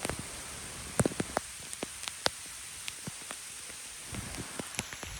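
Rain falling in the Miandam valley of Swat on a rainy day: a soft, steady patter with scattered sharper drop taps throughout, quiet and fairly close, with no voices.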